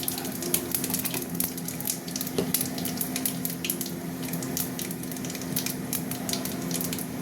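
A dried red chili and panch phoron spices sizzle in hot oil in a pan, a steady, dense crackle and hiss with sharp little pops scattered throughout and no talking.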